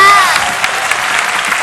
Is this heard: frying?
no